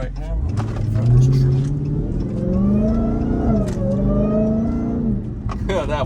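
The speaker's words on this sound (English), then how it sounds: "no other car makes a whine like that other than another Hellcat" A Dodge Hellcat Charger on the road gives off a rising and falling supercharger whine over the engine note as it accelerates, loud and close from inside the car.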